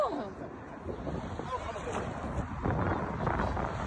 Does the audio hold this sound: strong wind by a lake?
yes